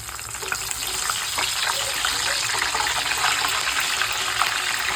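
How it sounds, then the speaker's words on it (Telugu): Curry leaves frying in a pan make a loud, steady hiss and crackle that runs unbroken from start to finish, close by and with no talking. "కరివేపాకు కూడా ఫ్రై చేసుకున్నామండి"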